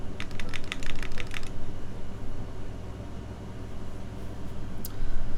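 Rapid clacking keystrokes ring out on the Equinox XL mechanical keyboard prototype fitted with GMK Hydro keycaps. A quick burst of about a dozen presses stops after a second and a half, leaving a steady background hiss with one faint click later.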